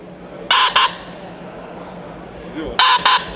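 A hunter's call device imitating a pheasant cock's crowing gives two sharp, loud double-squawk bursts a couple of seconds apart over quiet outdoor background.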